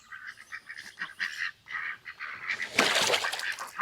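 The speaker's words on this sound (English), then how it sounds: "we do have ducks in here." Farm ducks quacking and honking in a busy, close run of repeated nasal calls, growing louder and denser toward the end, with no one talking.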